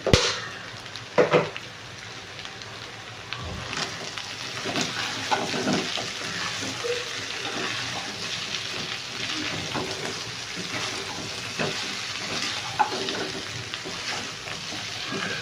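Chicken frying in a pan with fresh curry leaves, a steady close crackle and sizzle running throughout with a few sharp pops and clinks near the start.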